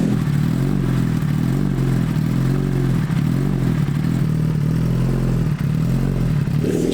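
A Kawasaki ZX-10R sportbike idling close by, a loud, steady, throbbing engine note with a slight mechanical clatter, alone without speech.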